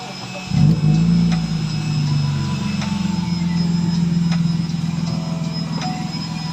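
A 1997 BMW 323i E36 engine cranks and fires with a sudden roar, then settles into a steady, even idle that carries on close and loud.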